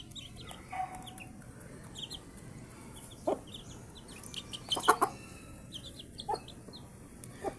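A mother hen with week-old chicks, clucking while being fed: soft, close, intermittent clucks and short calls, with faint high peeps scattered around them, over a low background hum and with no talk.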